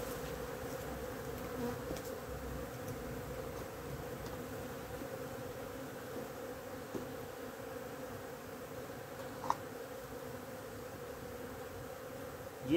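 Honey bees buzzing around a hive, a continuous faint, even hum of many insects nearby with a few small clicks and no voices.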